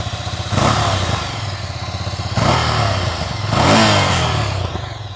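A Ducati Scrambler motorcycle with a Termignoni slip-on exhaust idles with a burbling pulse, then revs sharply three times, each throttle blip loud and rasping from the exhaust, close by.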